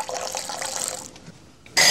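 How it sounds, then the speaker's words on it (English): Liquid pours and trickles as vanilla extract is splashed into a cocoa drink, a close watery flow that fades before a sharp louder burst of noise at the end. "A big splash of vanilla."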